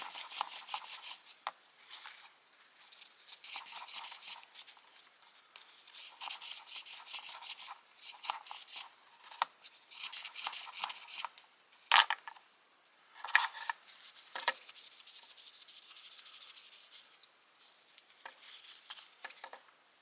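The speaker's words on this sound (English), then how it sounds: "For pocket knife blades, I like this 5-roll abrasive assortment." A pocket knife blade, an Old Timer Schrade 33OT being restored, is rubbed by hand with abrasive roll paper, giving close, soft, repeated scratchy strokes in uneven bursts with short pauses, alone and fairly quiet.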